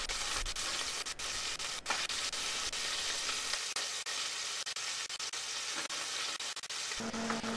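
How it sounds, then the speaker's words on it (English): Ingredients for Puerto Rican stewed beans cooking in a saucepan on medium heat, a dense continuous sizzle and crackle with occasional light stirring clicks, close and steady. "We're going to let that simmer for 2 to 3 minutes."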